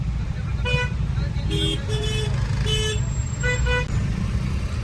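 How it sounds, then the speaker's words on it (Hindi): Road traffic while stuck in a car, with a steady low rumble of engines and several short horn toots and honks scattered across the clip, and voices faintly present. "stuck in traffic"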